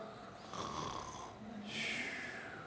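Audience members imitating snoring in a lecture hall, two drawn-out rasping snore sounds from many voices, moderately loud and overlapping.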